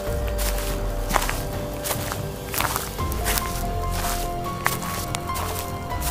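Footsteps in a late-night zombie-themed setting, an irregular series of soft scuffing and squishing steps over steady background noise, spread across several seconds with no talk.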